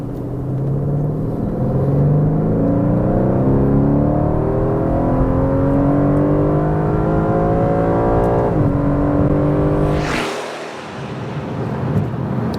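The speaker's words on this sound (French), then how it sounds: "Ça, c'était le V8 AMG retravaillé façon Aston en mode Sport Plus avec des valves à l'échappement ouvertes." An Aston Martin DB11 with a 4.0-litre AMG twin-turbo V8 in Sport Plus, exhaust valves open, revs up from low rpm toward the limiter in a loud, climbing roar. The engine then drops off sharply near the end.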